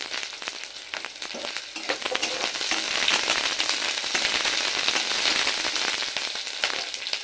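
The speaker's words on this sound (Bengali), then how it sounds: "সমস্ত কিছু আমি একে একে হালকা লাল করে ভেজে নেব।" Green chillies and chopped onions fry in hot oil, a loud dense crackling sizzle with rapid popping spits throughout, close by and steady, with no voices.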